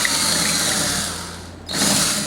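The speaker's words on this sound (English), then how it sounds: "Now I'm drilling a couple holes for mounting purposes to a tree or a stand." A power drill whines steadily as it bores, dipping briefly as the bit eases off, then revving back up loudly nearby.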